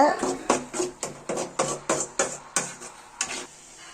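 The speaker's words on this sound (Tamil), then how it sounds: "பேஸ்ட்டை போட்டு ஒரு கிண்டி கிண்டிக்கோங்க" A spoon or spatula stirs ground masala paste into tomato gravy for an egg curry, making about nine steady, rhythmic scraping strokes up close before trailing off.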